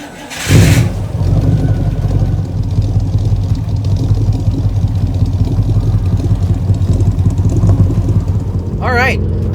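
A 1962 Buick Special Deluxe Wagon V8 cranks and catches with a loud burst, then settles into a steady, rumbling run that continues close by as the wagon sets off.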